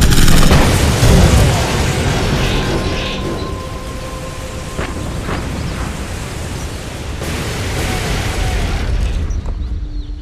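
Gunfire and heavy explosions roar through a World War II tank battle in Codename: Panzers, a dense, loud wall of booms and rumbling blasts running the whole time without a break.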